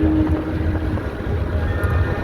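Wind rushes steadily past the microphone during a road journey near Kalyani, a loud continuous buffeting roar with low vehicle rumble underneath and no speech.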